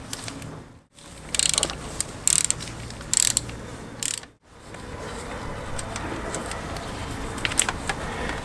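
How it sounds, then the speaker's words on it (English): A socket wrench with a 10 mm socket cracks loose the coolant drain bolt on a motorcycle. Close, loud ratcheting clicks come in several bursts with short pauses between them, over steady background noise and without any talking. "first crack the coolant drain bolt. Use a socket of 10 with a socket wrench"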